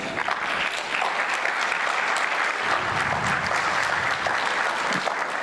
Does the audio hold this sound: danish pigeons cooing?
no